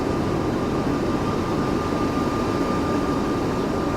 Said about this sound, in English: I kind of figured he had to have been working on an A220 sound package